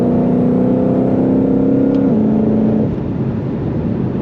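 Ford Mustang Shelby GT500 under hard acceleration in cold weather, a loud steady engine drone rising slightly in pitch, then dropping on a gear change, heard from inside the car with no talking.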